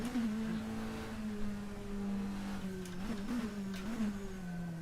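A twin-turbo race car engine revs steadily in a 1990s endurance racing video game, a sustained drone with a few throttle blips toward the end, loud and close throughout.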